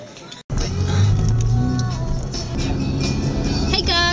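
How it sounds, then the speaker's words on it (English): A car cruising along the road back toward Merida gives off a steady, close interior rumble of engine and tyre noise, starting abruptly after a brief pause and continuing with voices in the background. "I'm driving back to Merida, and my friend is helping me"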